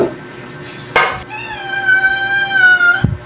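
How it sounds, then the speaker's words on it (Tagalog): A hungry cat gives a single drawn-out, tonal meow close by, bracketed by a couple of short knocks. "Naririnig niyo po yung pusa."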